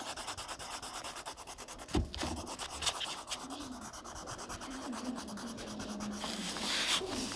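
Steady scratchy rubbing of a brown coloring tool shading sand on paper for a simple beach drawing, continuous and close with small strokes throughout, no talking.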